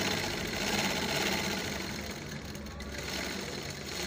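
A large sewing machine stitching fabric runs steadily with a continuous mechanical whir and rapid needle chatter, fairly loud and alone throughout.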